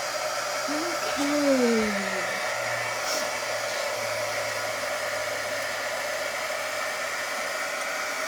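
A hair dryer blows steadily on a freshly painted celery-green sign background, a continuous whooshing hum held close and even for several seconds, with a brief spoken word near the start.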